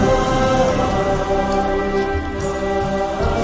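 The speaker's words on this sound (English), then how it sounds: "It's raining, all right." Steady rain falling outdoors, a dense continuous hiss with low rumbling underneath, loud and close, with no talk.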